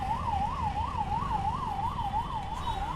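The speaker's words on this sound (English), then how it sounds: "Oh, that is an ambulance." In Pune traffic, an ambulance's wailing siren cycles up and down in an even, repeating sweep, sounding fairly close above a constant low hum of engines and road noise.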